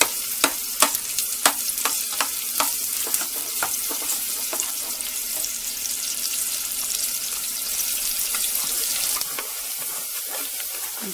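Onions cooking in a pot for lentil soup give a steady, close sizzle and hiss, with sharp spoon scrapes and knocks against the pot coming in a quick run early on, then fading to continuous frying.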